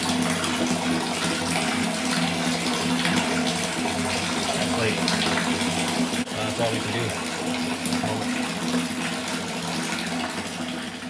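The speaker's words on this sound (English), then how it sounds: "It's nice to have water still flowing." Water runs steadily through a hillside water-system pipe fed from a cistern, a constant rushing gush close by, while someone talks briefly over it.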